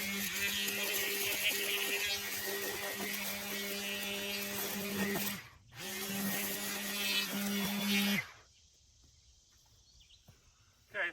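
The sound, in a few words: EGO string trimmer weed whacking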